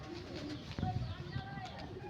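A pair of Malwai pigeons, one male and one female, coo in low, soft pulses that come close by against a steady background murmur, with faint voices in the room.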